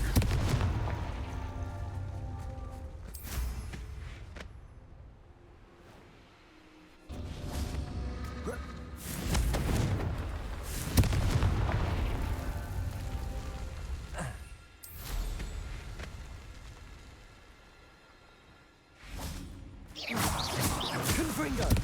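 Confringo blasting spell explosions in the game Hogwarts Legacy: several booming bursts with whooshing impacts, recurring every few seconds amid ongoing game ambience and spoken voice lines.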